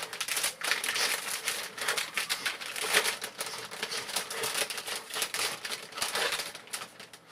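Plastic packets of Pokémon figurines are torn open and crinkled by hand, a close, fairly quiet flurry of irregular crackles and rustles continuing throughout with no talking.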